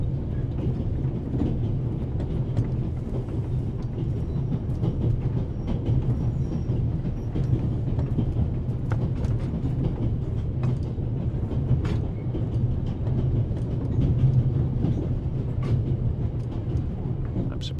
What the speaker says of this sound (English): This train began in Paris and ends in Istanbul, as usual.